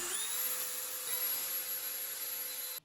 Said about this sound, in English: and then drill in your holes